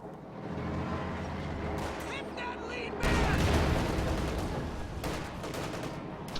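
In a World War II strategy game, mortar shells and gunfire boom and crackle in dense, continuous bursts that grow heavier halfway through, with a commentator talking over the battle.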